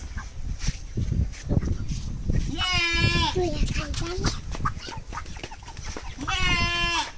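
Loud clucking from a chicken weighing over 2 kg on a small poultry farm, over continuous talk, with two distinct bursts of harsh, rising calls standing out.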